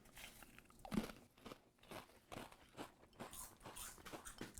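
Lay's Chili Mango potato chips bitten and chewed up close, a sharp crunch on the first bite followed by a few seconds of crackly chewing, no talking.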